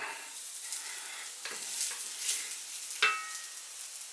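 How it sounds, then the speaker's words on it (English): Soft, steady sizzling of food frying in a pan, quiet and close, with a few light clinks of a utensil stirring. "Yeah, sizzling a bit."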